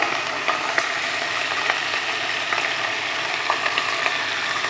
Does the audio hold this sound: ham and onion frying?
yes